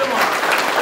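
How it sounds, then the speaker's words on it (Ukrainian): Wedding guests clap in a brief burst of applause beneath a host's voice. "Ще раз оплески, шановні гості!"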